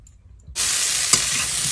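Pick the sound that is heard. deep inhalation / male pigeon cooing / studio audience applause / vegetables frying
vegetables frying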